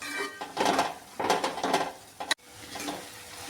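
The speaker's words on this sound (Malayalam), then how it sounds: "എന്നിട്ട് നന്നായിട്ട് ഇളക്കി കൊടുക്കണം" Crushed ginger and garlic are stirred in a hot pan for a restaurant-style chicken roast, with repeated scraping strokes and a light sizzle. A sharp knock near the middle breaks the rhythm, and the stirring picks up again close and alone.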